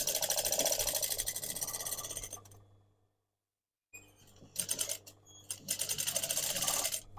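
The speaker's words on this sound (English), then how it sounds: "A little bit of a back tack there." A sewing machine stitches a short jacket add-on, running in rapid continuous bursts, stopping for about a second, then resuming in short back-tacking runs before a longer stretch of stitching.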